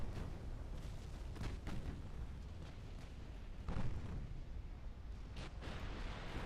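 Warship turrets exploding in the naval strategy game Ultimate Admiral Dreadnoughts: a dense, continuous rumble of booming blasts and crackling bursts, loud and overlapping, with sharper detonations standing out and no voices.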